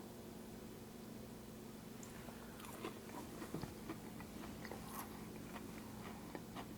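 Crunchy bites into fried Wickles pickles, several crisp crackling chews close to the mic against a faint hiss, with no talk.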